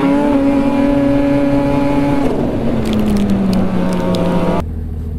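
Off-road motorbike engine on a wooded trail, howling at high revs with a stuck throttle, then the pitch sags and the note cuts out abruptly near the end, leaving a quieter idle; loud and close.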